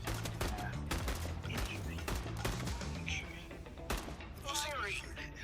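Gunfire rings out in the VR game Into The Radius: a rapid series of sharp, loud shots in irregular bursts, with a voice speaking briefly near the end.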